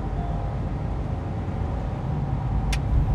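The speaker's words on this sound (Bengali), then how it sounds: "এক্সেলারেশনটা একটু দেখি" Baic BJ40 Plus 2023 SUV accelerating on a main road, heard from inside as a steady broadband engine and road rumble that builds slightly toward the end.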